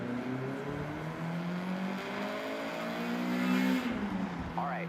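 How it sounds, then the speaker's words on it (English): A Honda CRX accelerating in the Forza Horizon 6 racing game: a steady, loud engine drone climbing in pitch as the car gains speed, with harmonics rising and shifting throughout and a brief squeal near the end. "All right, get the CRX up to speed."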